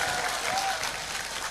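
Audience applause at a guest performance in an Islamic boarding school, steady dense clapping from a crowd throughout, fairly loud and continuous.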